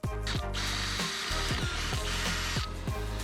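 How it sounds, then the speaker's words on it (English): Loud, continuous drilling of a 9 mm hole in a rear door's top hinge, with a steady whine, broken by a series of sharp clicking strikes that repeat roughly every half second. "we first drill a 9mm hole in the top hinge"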